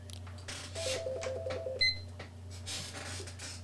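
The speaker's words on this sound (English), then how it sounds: "I'm going to hit my timer here." A timer is being set for ten minutes and gives a short series of electronic beeps with a brief higher chirp, fairly faint over a steady low hum with some radio hiss.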